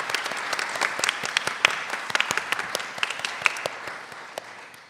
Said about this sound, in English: would you all join me in a round of applause for our amazing panelists?